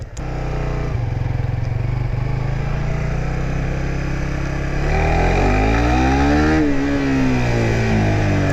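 A 2017 Suzuki GSX-R150 motorcycle engine roars steadily up close, then its pitch drops and warbles as the engine slows under engine braking, loud and continuous.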